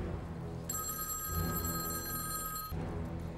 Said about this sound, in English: I have to answer that phone.